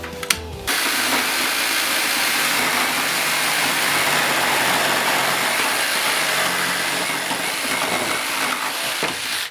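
A cordless Revolt jigsaw, a Makita copy, cuts steadily through two stacked boards after a short startup, a continuous loud buzzing saw drone held at near-constant pitch for several seconds.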